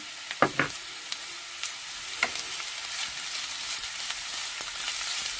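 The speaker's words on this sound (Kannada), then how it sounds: "ಈಗ ನೋಡಿ ಶುಂಠಿ ಬೆಳ್ಳುಳ್ಳಿ ಪೇಸ್ಟ್ ಹಾಕಿದ್ದೀನಿ" Ginger garlic paste fries in a pan with a steady, close sizzle, and a few light clicks of stirring come near the start.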